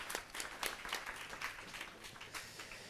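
An audience applauding at a talk event, light scattered clapping that stays quiet and distant, continuing steadily for a few seconds with no voices.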